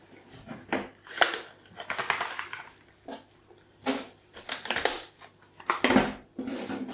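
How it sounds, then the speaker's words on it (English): Crinkly plastic cling film rustles and crackles in bursts as a chicken Wellington is wrapped by hand close by. "So I'm going to wrap that in cling film."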